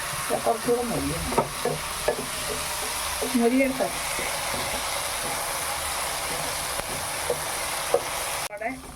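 Onions frying in a pan make a continuous sizzle with occasional stirring scrapes. A faint voice murmurs briefly near the start, and the sound cuts off abruptly just before the end.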